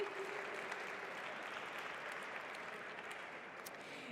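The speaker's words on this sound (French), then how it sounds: "on va applaudir tous ces coachs et tous ces mentors" Steady, even clapping from a crowd fills the whole stretch, sustained applause at moderate distance without voices.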